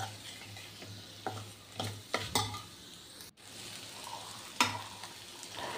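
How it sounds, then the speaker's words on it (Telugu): Mixed vegetable curry frying on low flame in a pan, with a steady sizzle and intermittent scraping strokes of a spoon stirring the vegetables, close and moderately loud with no talk. "మొత్తం లో ఫ్లేమ్లో పెట్టుకొని కర్రీని ఫ్రై చేశాను."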